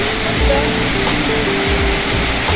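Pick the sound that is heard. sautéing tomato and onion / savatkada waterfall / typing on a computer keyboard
savatkada waterfall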